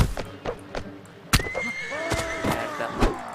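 Horse in the video game Mount & Blade Warband gives a loud, shrill whinny that rises and wavers over sharp clip-clop hoofbeats and impact thuds during a mounted battle.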